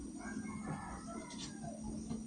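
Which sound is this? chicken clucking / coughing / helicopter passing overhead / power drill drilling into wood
chicken clucking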